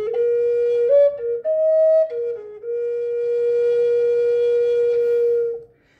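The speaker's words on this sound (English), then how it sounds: "So it kind of sounds like this." A walking stick flute with no finger holes plays a wavering, sustained whistle-toned melody, each note held and stepped up and down, alone and fairly loud for about six seconds before stopping.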